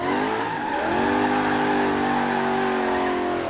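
A Porsche 928 GTS in Forza Horizon 3 squeals its tires in a long drift after a clutch kick, loud and close, a sustained rising screech over a straining engine drone.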